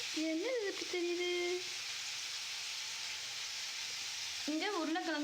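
Tomatoes sauté in a pan with a soft, steady sizzle, fairly quiet, while a voice sounds briefly at the start and again near the end.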